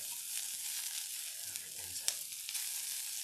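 Sausage fries in a pan with a continuous, fairly quiet crackling sizzle, broken by a soft low knock and a few sharper pops partway through.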